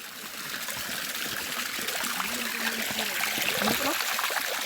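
Holy water spring trickling steadily out of rock at an Orthodox church monastery in Addis Ababa, a close, continuous light dribble and splash under faint background voices.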